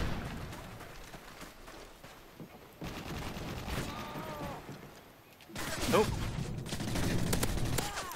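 Gunfire from the first-person shooter Call of Duty: Modern Warfare 3, with bursts of shots and action noise running throughout, heavier toward the end, while a player talks over it.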